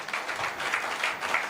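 Congregation clapping loudly during a church sermon, a steady wash of applause heard from a distance, fairly faint, with no voice over it.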